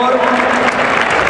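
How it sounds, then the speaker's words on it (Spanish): A bullring crowd bursts into loud, dense applause for recortadores at a bullfight in Alcalá, a brief close roar of clapping with voices mixed in. "Vamos a ver esa ovación"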